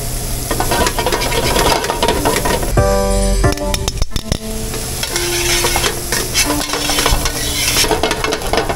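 Andouille sausage sizzles loudly and steadily in a hot pan for a Cajun shrimp and grits dish, with metallic scraping and clanks of stirring in a busy restaurant kitchen and a brief ringing tone partway through.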